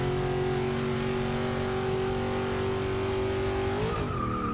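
Engine of a 1969 Ford Mustang in the racing game Forza 6 drones steadily at high revs, loud and continuous, with a brief dip and shift in pitch near the end, no voices.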